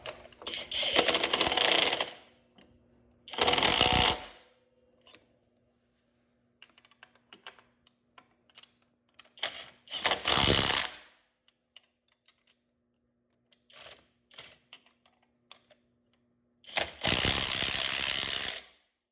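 A ratchet tightens the oil cooler mounting on a CG250 motorcycle in several loud, close bursts of rapid clicking, separated by quieter gaps with scattered small metallic taps and handling noises.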